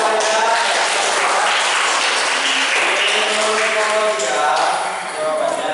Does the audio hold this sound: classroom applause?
yes